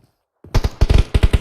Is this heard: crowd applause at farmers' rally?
no